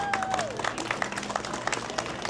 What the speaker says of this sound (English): So give this lady a round of applause.